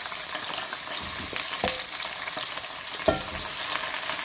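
Cauliflower frying in a pan for degi aloo gobhi, a steady broadband sizzle with a few sharp pops and crackles, with no talking.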